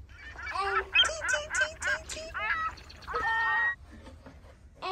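A voice imitates a bird with a quick series of honking, goose-like calls, followed by a longer squawk, close and fairly loud.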